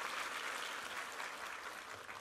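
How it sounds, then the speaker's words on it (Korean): Church congregation applauding the choir during a Sunday worship service, a steady, dense wash of clapping from a large room that holds even throughout. "우리 삼부 성가대 한번 힘차게 격려의 박수 부탁합니다"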